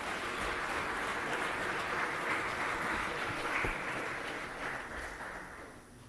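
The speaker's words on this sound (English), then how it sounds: "Please, another round of applause to the Dean of the Diplomatic Corps and the Ambassador of the Union of Comoros." Sustained, dense applause from an audience at a Tanzanian state event where the President meets foreign ambassadors, steady and close for several seconds before tapering slightly at the end.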